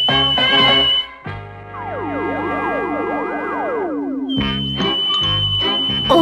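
A woman whistles a sliding, looping imitation of a bird call, rising and falling in rapid waves, alone and fairly loud between bursts of brassy music.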